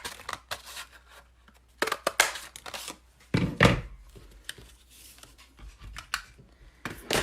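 Scissors snipping through scrap paper to cut out punch shapes for card making, a series of irregular crisp cuts and rustles close by, in quiet surroundings.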